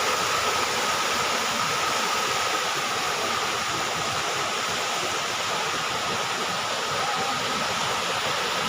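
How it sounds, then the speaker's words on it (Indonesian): Constant broadband roar of falling water, dense and unbroken throughout, like a waterfall heard from close by. "Ini ada air terjun."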